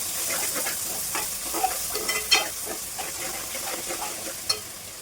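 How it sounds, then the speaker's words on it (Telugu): Ginger paste sizzles in a hot pan while chicken biryani is being cooked, a steady soft frying hiss broken by a few light stirring scrapes and small spatters. "ఇది కొంచెం ఫ్రై అయిన తర్వాత చికెన్ వేసుకుందాం"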